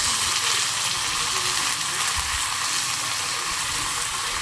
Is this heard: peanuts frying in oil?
yes